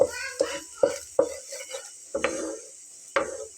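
A spatula pushing an egg-and-flour snack mixture aside in a pan, giving a series of sharp metallic taps and scrapes at a steady rhythm, with a faint sizzle between strokes.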